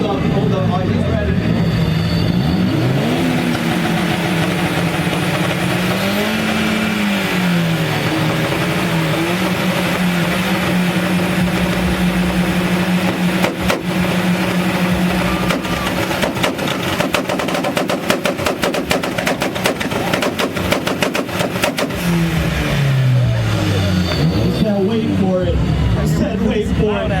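A red Audi at a car meet revs hard, its engine pitch climbing and falling in repeated sweeps, then a loud, rapid machine-gun crackle of popping exhaust, with voices around it.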